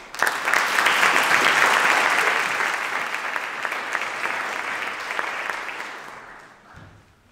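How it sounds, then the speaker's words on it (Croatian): Audience at a concert honouring violinists Franjo Krežma and Andrija Torkvat Brlić breaks into loud, sustained applause welcoming the first performers, dense clapping that gradually thins and fades toward the end. "molio bih da jednim velikim pljeskom i pozdravim ove prve izvođače koji će stupiti u ovu pozornicu"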